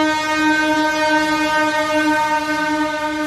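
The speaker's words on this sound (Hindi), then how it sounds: "मेडिकल रिलीफ ट्रेन को मौके पर ही रवाना किया गया" A medical relief train at a railway station sounds a long, steady horn with strong layered tones that holds loud and unbroken for several seconds, with no voices.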